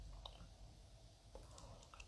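Close-miked gum chewing, soft squishy smacks and small clicks repeating irregularly, quiet and near with no speech over it.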